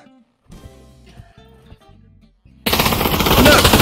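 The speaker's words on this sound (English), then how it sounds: "The FAMAS is very hard to shoot." A FAMAS rifle in the VR shooter Pavlov fires a loud continuous burst of automatic gunfire near the end, after a stretch of quieter game sounds.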